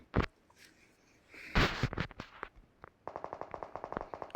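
Thompson submachine gun fire in a multiplayer shooter, starting with scattered single shots and a heavy blast, then a rapid, steady automatic burst of evenly spaced rounds, fairly close and with no voices.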